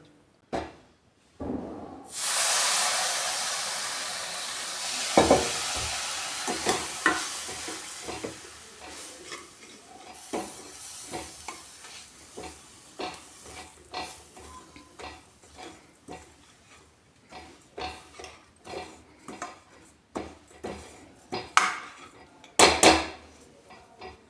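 A spoon stirs and scrapes a coconut ladoo mixture of roasted coconut and milk in a pan off the heat, making repeated close metallic scrapes and clinks at an uneven rhythm after an opening hiss.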